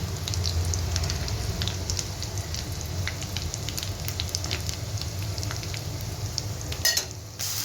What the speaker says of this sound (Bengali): এই যে মা এখন পেঁয়াজ বাটাটা ছেড়ে দিয়েছে, এটা একটু নাড়িয়ে তারপরে ছাড়বে বাকি মশলাগুলো।